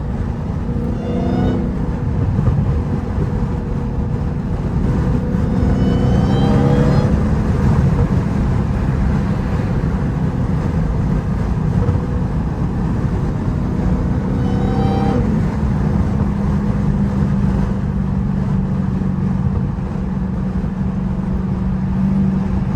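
A Dodge Hellcat's supercharged engine drones loud and steady from inside the cabin while driving, a continuous low roar with a faint whine layered on top and brief rising revs.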